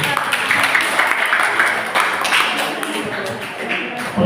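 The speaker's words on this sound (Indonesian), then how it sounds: "Tepuk tangan dulu untuk uji" An audience claps for a contestant at a grand-final Islamic book-reading competition, a dense, steady applause filling the whole stretch in a reverberant hall.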